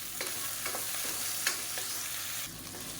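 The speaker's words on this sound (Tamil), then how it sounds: "இப்போ முள்ளங்கி தக்காளி எல்லாமே நல்லா வதங்கிடுச்சு" Radish and tomato sautéing in a pan, a steady soft sizzle with occasional light scrapes of a stirring spoon, close and fairly quiet, with no talk.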